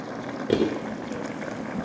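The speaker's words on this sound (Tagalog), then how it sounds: "Mukhang kumukulo na." Soft bubbling of liquid boiling in a pot, a steady low simmer with a brief louder burst of bubbles near the start.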